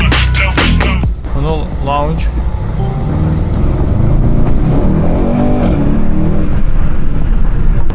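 Mercedes-AMG car engine revving loudly up close with downshift bursts and pops, continuous and dominant, while people talk excitedly over it inside the car.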